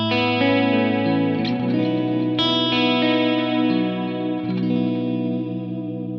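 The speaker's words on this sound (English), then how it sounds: "We've got our clean." Clean electric guitar through a Kemper amp set up as a praise-and-worship rig, ringing chords with sustained harmonics and a soft chorus shimmer, steady and close with fresh strums every second or so, no voices.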